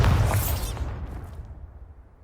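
A Bombarda spell blast in the video game Hogwarts Legacy: one loud, close booming burst that rumbles and then decays into a fading tail, with no talk.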